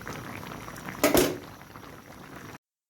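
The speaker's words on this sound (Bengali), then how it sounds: "এখন আমি জল দিয়ে দিব, এই জল দিয়ে দিচ্ছি।" Water poured into a pot of simmering vegetable curry gives one brief loud splash and gush, then settles into a quieter steady bubbling and hiss in a home kitchen, with no talk.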